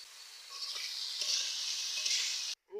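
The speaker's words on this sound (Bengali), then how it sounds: "আমি মোচাগুলো দিয়ে দিচ্ছি ভেজে রাখা পেঁয়াজের উপর। সব একসাথে সুন্দর করে ভেজে নেব।" Banana flower pieces with fried onions and ground spices sizzle in a pan, a steady bright hiss that swells slightly before cutting off abruptly near the end.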